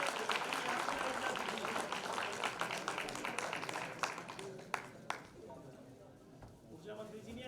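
Audience applause at a community award ceremony, dense sustained clapping filling a hall and tapering toward the end, with voices mixed in underneath.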